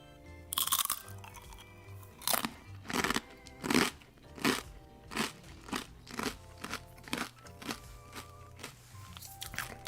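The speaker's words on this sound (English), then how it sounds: "Very crunchy, like a senbei should be." Someone bites into a black bean senbei rice cracker, with sharp close crunches repeating in a steady chewing rhythm, loud bursts that gradually grow smaller and quieter.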